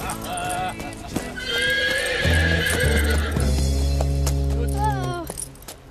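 A horse whinnies loudly with a long, wavering neigh, followed by steady clip-clopping hooves close by, set against a busy background of other sounds.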